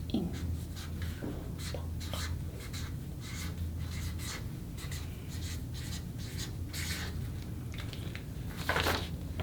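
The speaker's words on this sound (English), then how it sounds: "on that white strip, you are going to write this word" Marker or pen writing a word on a white strip of paper, a series of quiet scratchy strokes in uneven bursts, close and faint, with no talk.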